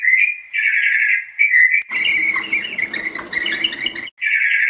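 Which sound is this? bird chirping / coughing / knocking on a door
bird chirping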